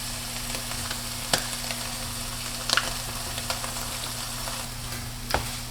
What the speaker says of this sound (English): I'm just going to stir these up and turn them down on low and let them simmer for just a few minutes